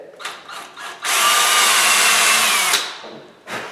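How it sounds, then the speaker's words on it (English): A power drill whirs steadily, pre-drilling a pilot hole into wood for installing an interior door knob, for nearly two seconds, preceded by a few short trigger bursts and followed by one more brief spin. "we're going to pre-drill it"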